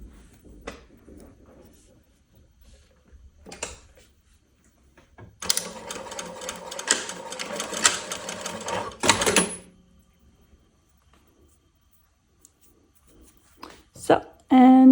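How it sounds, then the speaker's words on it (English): A sewing machine runs a few stitches on a long open-back Céline dress, a steady close mechanical whirr lasting a few seconds, framed by quieter handling clicks and rustles before and after. "And then I sew here a few stitches."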